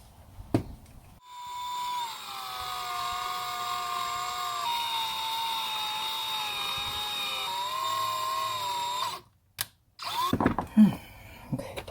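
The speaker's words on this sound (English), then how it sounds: "we're gonna take a drill bit and make these holes a little bigger" A power drill with a drill bit bores out small holes in a 2013 Toyota Tacoma for speaker mounting, a steady high whine that holds for about seven seconds, dips in pitch under load, then cuts off, followed by a few handling knocks.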